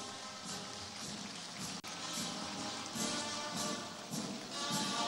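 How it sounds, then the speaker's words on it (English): Audience at an engineering assembly applauds, a dense and steady hiss of many hands clapping that sounds distant and fairly faint, continuing without a break. "Can we give him another round of applause, please?"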